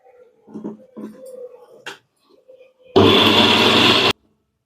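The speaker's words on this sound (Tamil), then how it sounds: "இப்போ தேங்காய் பேஸ்ட்டை நம்ம அரைச்சி எடுத்தாச்சுங்க" A mixer grinder grinding coconut paste roars loudly for about a second at close range after some scattered quieter kitchen sounds, then cuts off abruptly.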